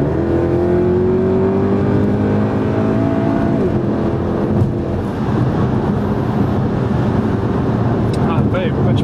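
Inside a Mercedes C63 AMG wagon, the V8 engine pulls hard under acceleration with a rising, rumbling drone on a slippery track, loud and close, then settles into a rougher steady roar.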